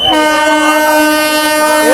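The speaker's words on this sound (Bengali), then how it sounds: "একদম পুরো সম্পূর্ণ নতুন একটা ট্রেন" A brand-new passenger train on the Krishnagar to Amghata line blasts its horn loudly and continuously as it arrives at a crowded station.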